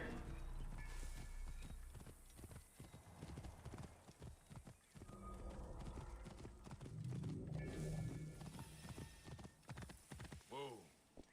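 Horse hooves clip-clop at a gallop in Assassin's Creed Origins, with a whinny near the end, while someone talks over the rhythmic hoofbeats.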